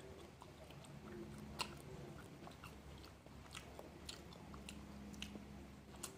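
Someone bites into and chews a Thai snack close to the mic, with repeated crisp bite transients and steady wet mastication throughout, no talking.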